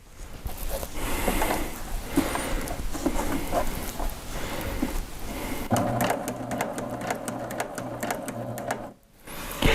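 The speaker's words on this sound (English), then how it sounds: "So now let's take a couple stitches just to get it started." Baby Lock sewing machine running while sewing a reversible placemat, a close, steady rapid mechanical stitching chatter that shifts to a harder, buzzier rhythm partway through, with a brief pause near the end.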